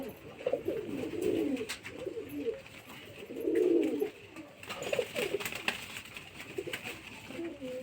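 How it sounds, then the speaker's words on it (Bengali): Domestic pigeons coo close by in repeated low, throaty phrases with short pauses between them, with no voices present. "এই চারটে পায়রার পছন্দ হয়েছে"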